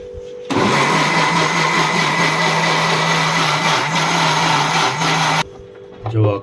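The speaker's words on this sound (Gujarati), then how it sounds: "આને મિક્સરમાં ક્રશ કરે છે।" A mixer grinder crushes coriander chutney for Surati locho, a loud steady whirring roar for about five seconds that starts and stops abruptly, with brief speech just after it ends.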